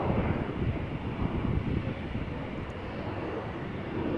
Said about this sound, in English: KLM flight 1023, Embraer 175 going to London Heathrow.